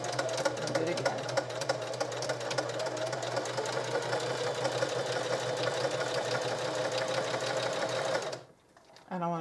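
A sewing machine runs continuously at close range, stitching a short back stitch on vintage linen fabric. The motor hums steadily with a rapid rhythmic needle clatter, then stops abruptly near the end.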